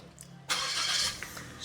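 A 2023 Suzuki Swift 1.2 GL engine fires up via the push-start button, a quiet click followed by a sudden cranking catch that settles into a steady idle, heard close and alone.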